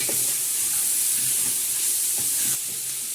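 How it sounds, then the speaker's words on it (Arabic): Squid sizzles in a hot pan with onion as it is stirred, a steady loud frying hiss with occasional soft scraping taps from the stirring, no voices. "هنحط بقى الاول كده السبيط وهنقلب"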